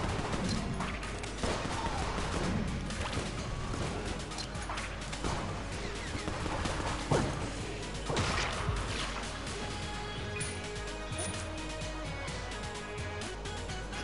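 Video game gunfire in Robot Rainbow Run: bursts of rapid shots and sharp cracks over continuous background game noise, fairly loud and sustained.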